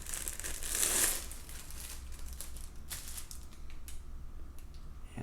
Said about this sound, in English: let's take it out of the plastic first